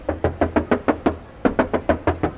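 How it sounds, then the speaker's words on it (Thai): Knuckles rap rapidly on the thin front fender panel of a 2021 Toyota Vios 1.5 Mid, two quick bursts of about a dozen close, hollow metallic knocks with a brief pause between. "แก้มเนี่ยบางๆเคาะได้"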